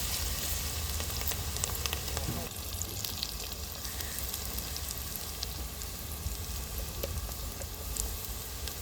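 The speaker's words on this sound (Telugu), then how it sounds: "ఎర్రగా వేగాలండి ఉల్లిపాయ ముక్కలు ఫస్ట్గా." Onion pieces sizzle and crackle steadily in a hot pan for a mushroom curry, a dense continuous frying hiss heard up close, with occasional small clinks.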